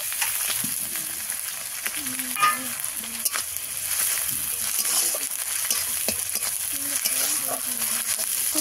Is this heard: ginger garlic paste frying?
yes